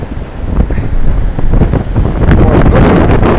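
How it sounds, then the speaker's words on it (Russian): Strong wind buffets the microphone on a rocky perch beside a small waterfall, a loud, steady roar of gusts with broadband rumble that thickens toward the end. "Я развернусь в другую сторону, а то меня ветром сдувает."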